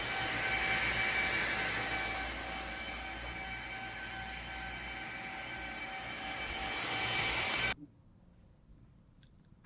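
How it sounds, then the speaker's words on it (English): Cooling fan of a Zhiyun Cinepeer CF100 video light, a steady broadband whirring hiss with faint tonal whine, loud and close, cutting off abruptly near the end to near silence. "there's a pretty significant fan noise that comes out of these lights"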